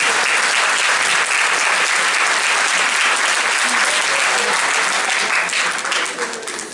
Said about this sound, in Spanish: Un aplauso para Jesús que levantó la mano